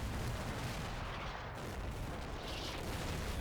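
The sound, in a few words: artillery shells dropping in the video game Combat Mission Shock Force 2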